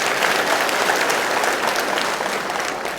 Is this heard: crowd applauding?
yes